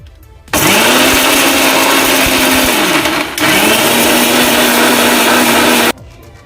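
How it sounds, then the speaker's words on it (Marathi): A mixer grinder whirs loudly grinding a spice paste for bangda fish curry in two long bursts with a short pause between, then stops. "मिक्सरच्या भांड्यामध्ये मी सर्व साहित्य घातलेलं आहे आता आपण हे बारीक असं वाटून घेऊयात"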